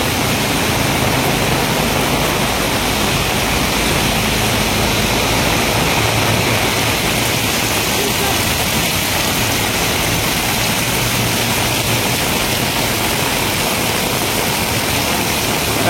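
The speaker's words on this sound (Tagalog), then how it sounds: "sobrang lakas ng ulan" Heavy rain pours steadily during flooding in Baclaran, a dense, loud, unbroken hiss that continues through the whole stretch, with no talking.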